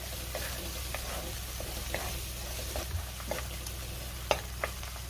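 Finely chopped coriander sizzles and crackles in hot tempering oil while being stirred, a steady frying hiss broken by light scraping taps of a spoon against the pan.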